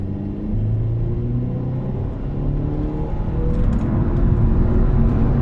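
An Audi/VW car in manual mode in third gear accelerates at full throttle toward 7,000 RPM, its engine a steady loud rumbling drone that builds gradually in pitch and volume.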